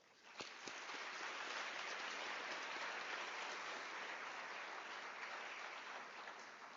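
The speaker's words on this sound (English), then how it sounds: "I believe Professor Naidu deserves a thunderous round of applause." Audience applause at a university autumn graduation ceremony in South Africa: a sustained, dense wash of clapping from a large crowd, steady and fairly distant, running without talk for several seconds.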